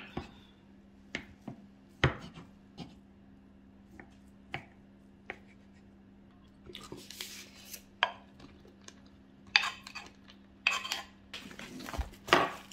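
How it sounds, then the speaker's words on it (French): A knife taps a board as ham is cut into small squares. The chops come as sparse, crisp knocks, then quicken into denser clatters of knife on board, with a faint steady hum underneath. "Les jambons, je vais couper en petites carrés."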